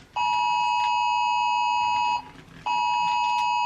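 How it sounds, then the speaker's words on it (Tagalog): A cellphone sounds an Amber emergency alert, a loud, harsh steady tone holding for about two seconds, breaking off briefly, then resuming, close and alone without talk. "May alert yung cellphone ko."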